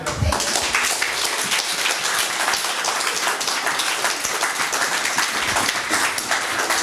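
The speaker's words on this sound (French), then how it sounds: "Acclamez-le." A church congregation bursts into loud, sustained applause and cheering, dense clapping filling the hall for the full stretch.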